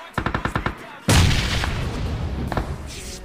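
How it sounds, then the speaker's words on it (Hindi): Rapid bursts of gunfire in the video game BGMI crack in a quick series, followed by a loud blast and rumbling, then a few more scattered shots. "यहाँ पर भाई मुझे गोली चलने की आवाज आती है"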